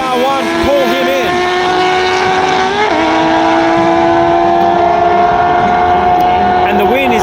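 At a street bike drag race, a Kawasaki ZX6 and a Yamaha R1 launch hard with loud, near engine roars. The pitch rises as they accelerate and shifts at a gear change, and an announcer talks over the engines.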